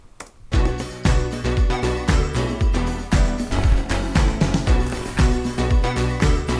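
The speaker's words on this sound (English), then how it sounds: "just very evocative little sparkly sound" Sparkly, evocative Roland D50 synth part in the track, shimmering bright tones woven through a full mix with steady pulsing hits, moderately loud and without any voices.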